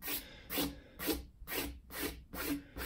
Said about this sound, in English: But I've rubbed this area now several times here.